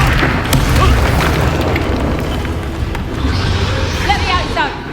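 Spell blasts boom repeatedly during a combat encounter in Hogwarts Legacy, where a fire-casting Confringo spell explodes amid continuous battle noise and whooshes, with a voice shouting spell names over the action.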